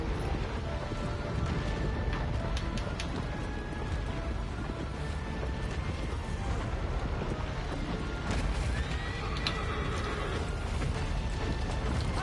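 A horse neighs and whinnies in the video game Shadow of the Colossus, with hooves clip-clopping and mechanical clanks, ratchet-like rattles and a steady, busy background bed underneath.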